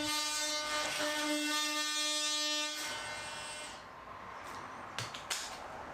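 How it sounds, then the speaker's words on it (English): Oscillating multi-tool buzzing loudly as it cuts an opening in a loft ceiling, a steady harmonic whine for nearly three seconds before stopping, followed by quieter rustling and a few faint knocks. "using my multi-tool"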